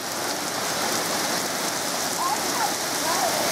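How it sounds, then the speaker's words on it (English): Heavy rain pours steadily during a severe Las Vegas thunderstorm with flooding, a dense, continuous hiss of water drumming on surfaces, close and loud, with no thunder or talk. "And here comes the rain pouring again."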